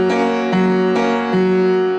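Piano chords from a song ring out alone, four sustained voicings struck one after another at a steady, even pace, each bright attack fading into the next.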